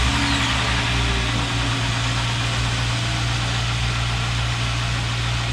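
A Hyundai Genesis Coupe engine idles during a CRC intake cleaning, its loud, steady low hum running continuously close by with no voices.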